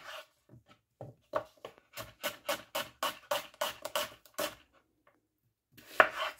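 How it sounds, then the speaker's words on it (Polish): Knife chops an onion into large pieces on a board, about a dozen crisp, evenly spaced cuts close by, then a pause and one last firm chop. "Kroimy na większe kawałki."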